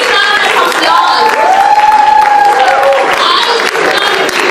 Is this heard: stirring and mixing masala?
no